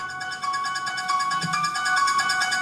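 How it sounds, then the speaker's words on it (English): A melodic phone ringtone tune with bright, steady tonal notes, playing continuously and fairly loud on its own with no talk over it. "it's actually my ringtone this"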